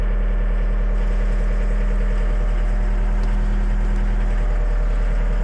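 A skid steer engine idles steadily to warm up, a loud, constant close-up rumble with an even low throb and no pauses throughout.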